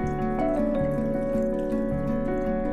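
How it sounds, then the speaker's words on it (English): Rum pours from a bottle into a jerry can, a steady liquid stream gurgling and glugging in a repeated rhythm, close and fairly loud. "Oh, look at that pour."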